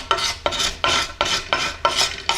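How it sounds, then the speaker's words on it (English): A scraper drawn along an Osage orange selfbow limb makes six or seven rhythmic rasping strokes, each a sharp dry scrape starting hard and fading, evenly spaced and close up. "you can come in with a scraper and you can kind of clean that up a little bit"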